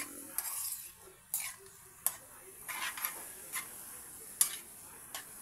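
Lamayagan being sautéed in a pan, a faint low sizzle punctuated by several distinct metal spatula clinks against the pan at irregular intervals.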